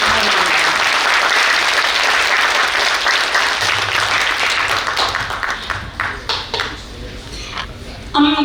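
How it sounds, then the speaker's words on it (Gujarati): Loud, sustained applause from an audience for the artists of a devotional music performance fills most of the stretch, then thins out into scattered claps. "આધ્યા મહેશ્વરી કલાવૃંદના કલાકારોને એકવાર જોરદાર તાળીઓ"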